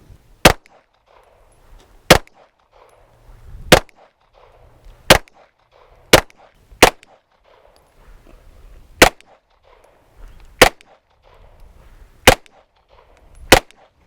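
A pistol fires while its red dot sight is being zeroed: ten sharp, loud, close single shots at irregular intervals of one to two seconds, with near silence between them.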